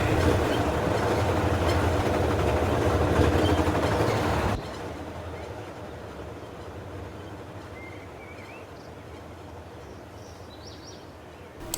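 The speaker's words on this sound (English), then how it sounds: "This was a very short intermodal with only single stacks" A short single-stack intermodal freight train rumbles past at steady volume for several seconds, then cuts off abruptly, leaving quiet outdoor ambience with faint birds.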